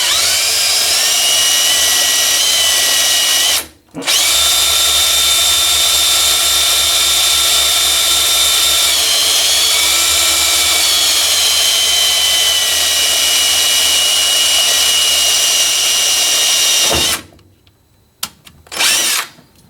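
A power drill with a small bit bores into a 1965 Corvair, a loud, steady high whine that cuts out briefly near the start, then runs on before stopping with a few short bursts at the end.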